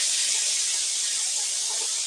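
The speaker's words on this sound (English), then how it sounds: "That's the sizzle." Steady, loud sizzling hiss of lamb chops searing on a hot grill, continuous and close, with no talking.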